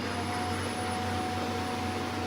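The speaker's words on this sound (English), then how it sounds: "The vacuum's going off up there." A vacuum cleaner runs upstairs in a house, a steady muffled whooshing drone with a faint high whine, unbroken and even throughout.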